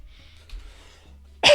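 A single loud, close cough bursts out at the end after a stretch of faint room noise, sharp and forceful.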